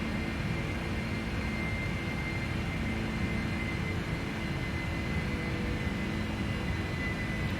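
Boeing 747-400 jet engines at climb power in a flight simulator game: a steady, dense roar and rumble, continuous and unchanging throughout, with no talk.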